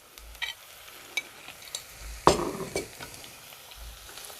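Garlic and ginger paste being stirred into chicken frying in a pan, giving a soft ongoing sizzle broken by scraping stirs and one sharper clatter near the middle, with no talking.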